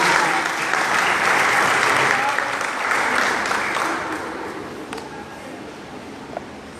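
A congregation claps steadily, a broad wash of applause that slowly fades, with faint murmuring voices underneath.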